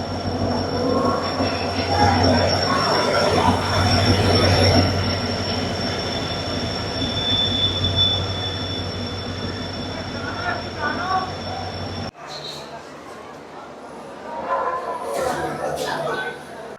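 The Tamralipta Express, bound for Digha, rolls into a station with a loud, steady rumble and high metallic wheel squeal. The noise eases partway through to quieter clatter and people talking on the platform.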